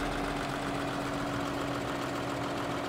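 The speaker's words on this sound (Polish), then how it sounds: "jeden traktor za drugim" A tractor engine in Farming Simulator 2013 running at a steady, close, continuous drone with a low hum, unbroken for the whole stretch.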